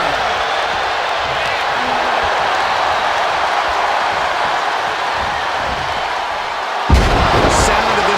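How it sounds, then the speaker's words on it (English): Wrestling crowd in the WWE 2K23 video game: a loud, steady roar of cheering arena noise throughout, swelling with a burst near the end. "The sound of this crowd is deafening"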